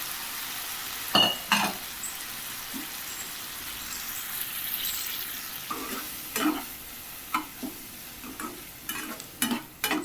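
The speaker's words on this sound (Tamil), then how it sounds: "இப்போ இந்த வெங்காயத்தை வதக்கி விட்டுக்கலாம்" Onion and curry leaves sauté in a pan for a Tamil home-style kuzhambu, with a low sizzle beneath intermittent spoon stirring and scraping against the pan.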